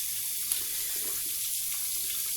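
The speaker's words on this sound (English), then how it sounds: "I'm going to rinse out my brush," Brush rinsed under running tap water, a steady close hiss of flowing water with small splashy variations, continuous and alone.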